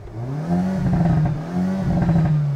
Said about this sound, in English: Let's give it some cheeky revs, shall we?